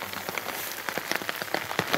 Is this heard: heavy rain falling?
yes